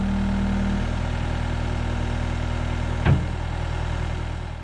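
Skid steer loader engine idles steadily and close, a low droning hum with a brief louder knock partway through and no talking.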